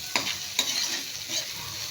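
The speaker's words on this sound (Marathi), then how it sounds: "सुकट चांगली तेलामध्ये परतली गेलेली आहे." Dried fish (sukat) frying and being stirred in hot oil in a pan for a cabbage stir-fry, a steady sizzle with two sharp scraping stirs near the start and a softer one later, close and alone.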